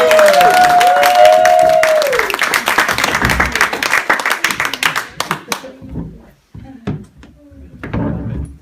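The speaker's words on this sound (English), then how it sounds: "A huge round of applause, make them feel very welcome indeed." Audience at a live magic show breaks into loud, dense applause that holds for several seconds, then thins into scattered claps and stops, with a brief whistle-like tone early on and voices in the room.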